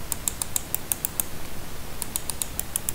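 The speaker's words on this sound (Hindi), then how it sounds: "mouse click sound test" An Ant Value wireless mouse is clicked repeatedly at a steady pace, crisp close clicks in two runs separated by a short pause, with no talking.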